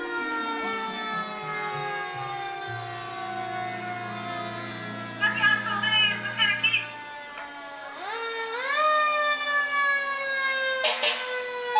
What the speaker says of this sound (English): We'll let the sirens go for a minute